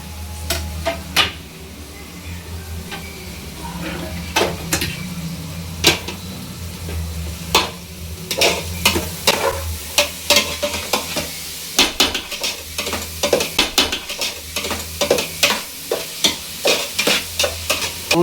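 Cabbage egg rice is stir-fried in a pan, with sharp metallic scrapes and clanks of the spatula striking repeatedly over a steady sizzle, growing quicker and denser toward the end.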